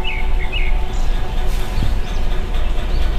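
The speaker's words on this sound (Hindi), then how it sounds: "यहाँ पे चिड़ियों की आवाज़ें कुछ जानवरों की आवाज़ें सुनाई दे रही हैं" Faint bird chirps and tweets sound in the distance over a steady low rumble of outdoor ambience in the Morni Hills near Tikkar Taal, with little traffic.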